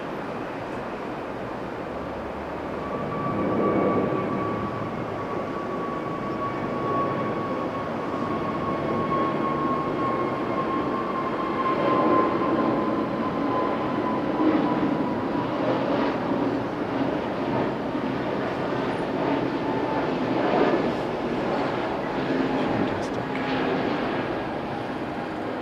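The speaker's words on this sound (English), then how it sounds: "Aircraft that was landing, Japan Airlines A350." A Japan Airlines A350 landing at Okinawa airport, a steady broad jet roar with a whining engine tone, heard from a distance, swelling slightly and then holding steady for about twenty-five seconds, with no speech.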